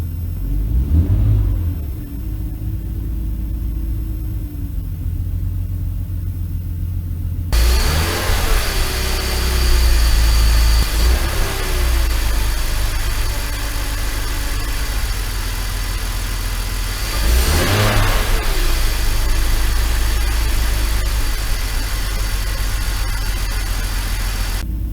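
BMW E46 330i with the M54 engine running after a crankcase ventilation refresh, idling steadily with a couple of rising revs, close and continuous with no voices.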